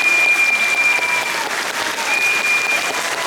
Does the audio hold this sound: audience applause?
yes